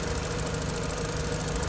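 Classic car engine idling steadily, a dense close rumble with no talk.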